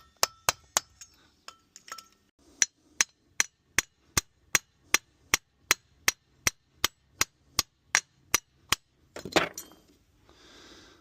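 A hammer drives a metal part into place in place of a press: about twenty sharp, evenly spaced metallic blows, close and loud, ending in a brief clatter and a soft rattle.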